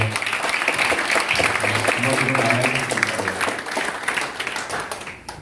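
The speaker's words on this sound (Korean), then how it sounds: "우리 특히나 스텝 여러분들께 박수 한번 보내드리시죠." Attendees at a People Power Party Incheon campaign committee disbanding ceremony applaud the campaign staff in a meeting room, steady close clapping with a voice running beneath it, thinning out at the end.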